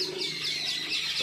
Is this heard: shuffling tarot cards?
no